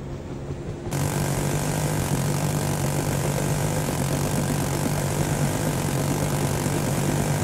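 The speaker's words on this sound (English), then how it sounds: "The reconnaissance plane will be with you shortly." Reconnaissance propeller plane in the Vietnam War game Rising Storm 2: Vietnam, a loud, steady droning engine roar that kicks in abruptly after a quieter second and holds constant throughout.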